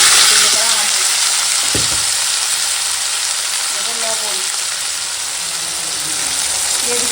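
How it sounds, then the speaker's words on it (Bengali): Onion and green chili fry in a pan of cumin tempering, giving a loud, close, steady sizzle with one sharp clatter of stirring near the start. "দিয়ে দেবো পেঁয়াজ কাঁচা লঙ্কা ভাজবো"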